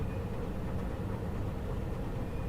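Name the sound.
train running in the video game Paradise Lost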